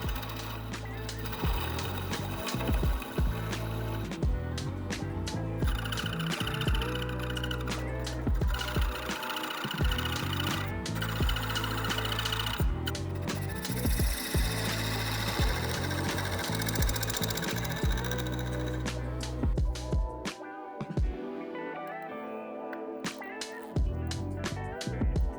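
Wood turning on a lathe with thread chasers, a continuous dense scraping and chattering of the tool against spinning wood, loud and close, easing off near the end.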